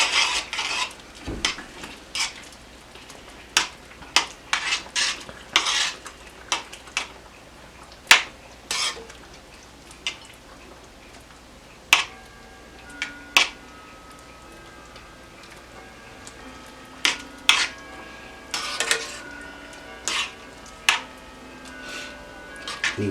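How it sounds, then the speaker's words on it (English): Utensil scraping and tapping in a skillet as breadcrumbs are stirred into homemade hamburger helper, irregular clinks and scrapes at close range over a soft background hiss, with no talking. "And we're just going to stir this up."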